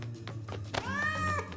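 A cartoon cat gives a short, bright, rising meow over a low background hum.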